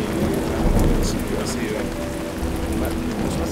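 An approaching thunderstorm in the Vosges mountains: steady heavy rain with a low rumble of thunder rolling underneath, loud and continuous throughout.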